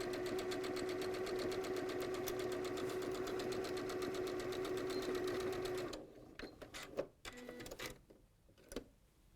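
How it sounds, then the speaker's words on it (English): Domestic sewing machine running steadily as it stitches the centre seam of a dress, a continuous fast mechanical whirr for about six seconds, then stopping, followed by faint handling clicks and rustles. "you just sew it together from the top to the bottom"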